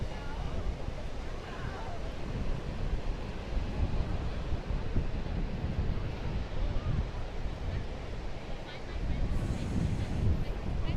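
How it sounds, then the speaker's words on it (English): Brisk southwest wind at an Atlantic Ocean beach on Long Island, a continuous loud rushing roar buffeting the microphone, with surf blended underneath. "a brisk wind out of the southwest"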